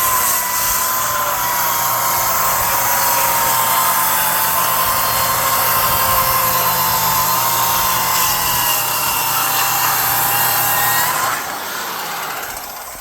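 A power saw cuts a board along a clamped straight edge, a loud steady whine that holds for about eleven seconds before dropping away as the blade winds down.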